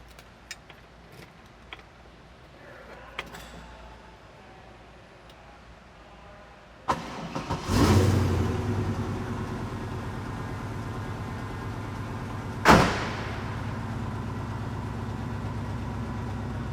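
A 1968 Chevrolet Camaro's engine cranks and catches near the seven-second mark, surging loudly before settling into a steady, rumbling idle, with a sharp clunk or rev spike around twelve seconds; faint handling noises precede the start.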